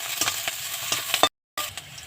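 Onions sizzle in hot oil in a pan while being stirred for a Bengali gourd seed bharta, with steady close frying crackle and a few scraping strokes, broken by a short gap of silence.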